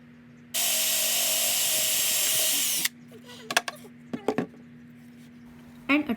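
A power drill whirs steadily for about two seconds as it bores through the center of a 5 by 5 inch plywood piece, then stops, followed by a few scattered clicks and knocks.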